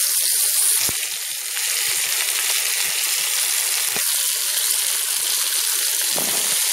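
Chopped onion and bell pepper frying in a pan, giving a steady bright sizzle with occasional soft clicks and stirring scrapes.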